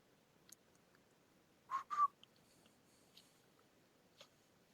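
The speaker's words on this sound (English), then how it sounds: "Why don't you whistle for some backup?" A few short whistles, two quick chirps close together in the middle with fainter blips around them, heard quietly over a low background hiss, with nobody speaking.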